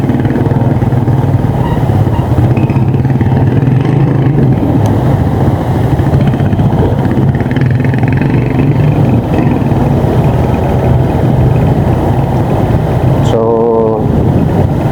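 A Honda PCX 160 scooter cruises steadily with a constant, loud low engine drone and wind rush, a continuous ride with a brief tonal whine near the end.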